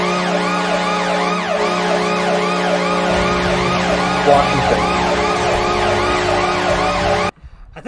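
The Washington Capitals NHL goal horn blares with a wailing siren chorus, repeated rising-falling sweeps over a loud sustained tone for about seven seconds before cutting off abruptly into arena noise.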